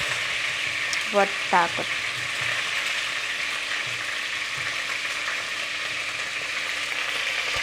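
Chicken fries in a pan with a continuous even sizzle; someone speaks briefly near the start.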